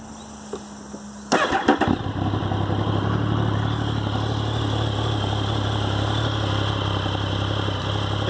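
A 2013 Triumph Speed Triple R motorcycle with a remapped engine cranks briefly and fires up close by, then settles into a steady, loud idle that runs uninterrupted for several seconds.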